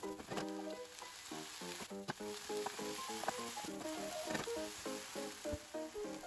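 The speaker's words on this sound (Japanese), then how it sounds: "火加減は中火にして玉ねぎが透明になるくらいまで炒めていきましょう。" Chicken, onion and paprika stir-frying over medium heat in a pan produce a faint, constant sizzle with scattered clicks and scrapes of stirring, under a tonal hum and without talk.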